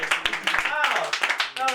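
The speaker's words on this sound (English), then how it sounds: "Everybody give a clap for." A stand-up comedy audience claps at the end of a show, brief scattered claps mixed with a cheer, heard under a comedian talking loudly into a microphone.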